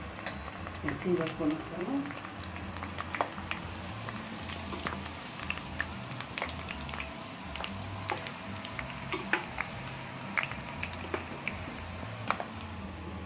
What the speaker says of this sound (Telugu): ఉల్లిగడ్డ మంచిగా ఎగుతూ ఉంది.